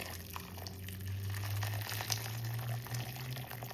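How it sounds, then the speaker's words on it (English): Hot water is poured over a cow foot in a kitchen, making a close, steady splashing stream that holds for a few seconds with no voices. "the first thing I'm going to do is pour some hot water on the cow foot"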